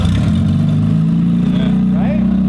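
An MG Midget engine, stripped of its exhaust and started in gear, runs loud and close with a steady rough drone, rising slightly as it is revved.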